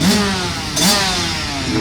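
Motocross motorcycles, including a Honda CRF450L, rev at a motocross track, with two loud rising throttle blips over a steady engine drone, close by and without speech.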